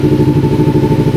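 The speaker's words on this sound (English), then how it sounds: "Now it's idling perfectly, right at 1500." A $1,000 motorcycle with its carburetor vacuum line bypassed and plugged idles close by at about 1500 rpm, a steady even pulsing thrum with a light mechanical clatter.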